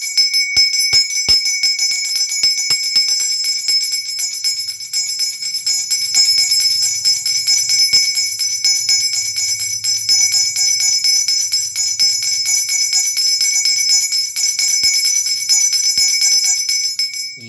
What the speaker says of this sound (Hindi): ये होना चाहिए घंटा बजाने का सही नियम